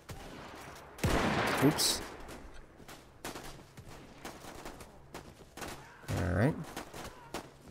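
Gunfire from a Parabellum gun in the Mount & Blade Warband video game, two loud bursting shots a few seconds apart, with brief spoken words in between.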